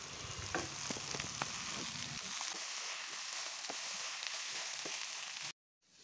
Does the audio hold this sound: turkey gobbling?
no